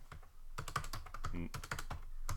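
Someone types a file name on a computer keyboard, a quick run of light, close key taps at an uneven rhythm, with a faint voice briefly audible in the middle.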